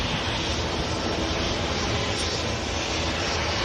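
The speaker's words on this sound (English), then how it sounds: "Dreamliner's going to go full length" A Boeing 787 Dreamliner begins a full-length takeoff roll at Manchester Airport, its engines producing a dense, continuous roar that stays loud and unbroken.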